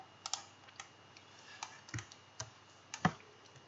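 Computer keyboard keys pressed with sparse, light clicks and taps, scattered irregularly and quiet against a faint background hiss, with no voices.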